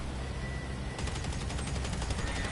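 Rapid gunfire in GTA Online aimed at a helicopter, a fast, even stream of shots over a steady rotor-like hum, moderately loud and unbroken throughout.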